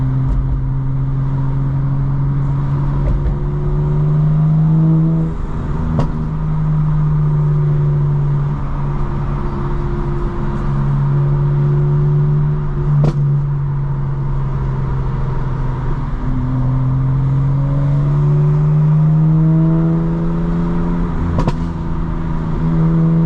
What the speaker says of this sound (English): It's not much of a wind outside either, so you can really hear the exhaust